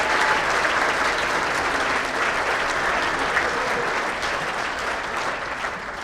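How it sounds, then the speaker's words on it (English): Sustained applause from a banquet audience at a sports hall of fame induction, honoring a bagpiper; dense, steady clapping fills the room throughout at an even, fairly loud level. "How about a round of applause for our Piper, Dave Manette."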